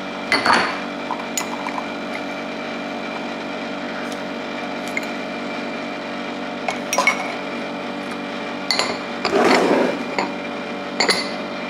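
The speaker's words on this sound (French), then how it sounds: "Voici posé avec mon café tout chaud que je vais remuer pendant un quart d'heure parce que c'est trop chaud pour moi" A spoon clinks and scrapes inside a cup of hot coffee while it is stirred, with scattered light metallic taps and a louder swirl of liquid near the end over a steady room hum.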